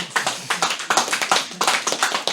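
A live audience at a Halo 3 speedrun event applauds in short bursts of clapping, moderately close and fairly loud, with no talk over it.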